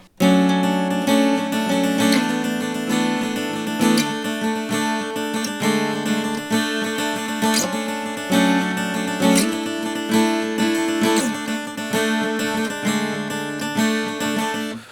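A heavy, sustained electric guitar riff in drop C tuning, loud and continuous with rhythmic accents and no talking.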